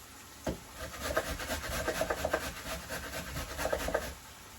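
Carrots being grated by hand on a grater for pitta bread with mince, making close rhythmic scraping strokes in quick repeated bursts that rise and fall with each pass.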